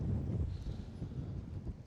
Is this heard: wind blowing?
yes